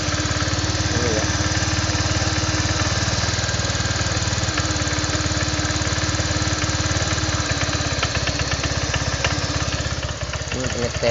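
A Honda Vario 125 scooter engine with a throttle fault runs steadily close up, a constant mid-pitched buzzing drone with rapid pulsing, fairly loud, and a voice talks over it.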